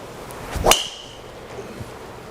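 A Callaway Mavrik Sub Zero driver strikes a golf ball with a single sharp, bright crack that rings briefly, heard alone against quiet outdoor background.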